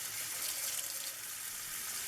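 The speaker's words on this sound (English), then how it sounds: "I start by agitating the sponge before rinsing it out with super hot water" Hot tap water runs steadily into a sink as a beauty blender sponge is rinsed under it, a continuous close hiss of flowing water with no talking.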